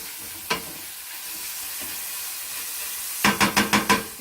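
Garlic fries in a pan, a soft steady sizzle with a lone clack early on and then a quick burst of five rhythmic scraping strokes near the end, close and fairly loud.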